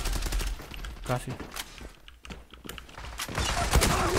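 Rapid MPT-76 rifle bursts crackle in the online shooter Zula, close and loud, mixed with keyboard clatter while players talk over the action.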